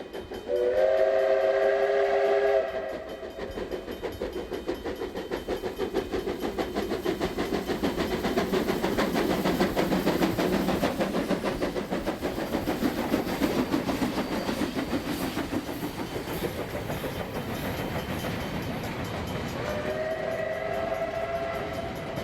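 A steam locomotive hauling a tour train in New Zealand sounds its whistle, then chugs and rumbles steadily past with rolling wagons after exiting Mansfield Bay Tunnel, whistling again as it moves on.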